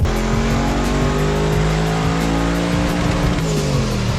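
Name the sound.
twin turbo V8 engine exhaust burble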